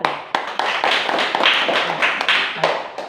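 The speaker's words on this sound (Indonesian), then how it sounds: "Tepuk tangan." A classroom of pupils clapping their hands together during a lesson, a dense, continuous patter of many small hands with a few sharper claps standing out, fairly close and steady for about three seconds.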